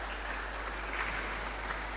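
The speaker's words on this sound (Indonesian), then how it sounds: "Mari kita berikan tepuk tangan aplaus untuk mereka" Applause from the congregation at a Sunday Easter Mass for the Second Sunday of Easter, a steady, soft wash of many hands clapping at a distance, with no voices over it.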